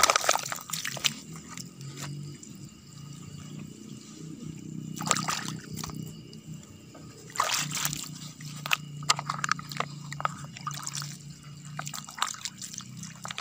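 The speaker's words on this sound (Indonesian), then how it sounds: "kita siram-siram yang tomat juga kita siram yang cabai juga kita siram sahabat tani" Tomato and chili seedlings being watered, with water splashing and trickling onto leaves and soil in steady pours and drips, close and fairly quiet, broken up by a few sharper knocks.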